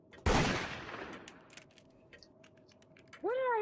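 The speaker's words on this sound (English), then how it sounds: "That's a warning shot." A single loud gunshot fired as a warning shot in the VRChat video game, one sharp crack followed by a fading tail, then a brief tonal chime near the end.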